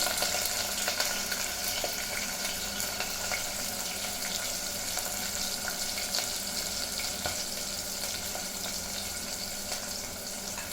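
Onion, green chilli and bay leaf frying in oil for a Telangana chicken fry, giving a steady, moderate hiss of sizzling throughout with no talking.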